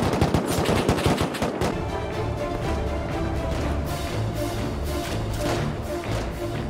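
Heavy gunfire during a large group fight in the video game Rust, with rapid automatic bursts and overlapping shots crowding together at first, then thinning into scattered shots over a steady game background.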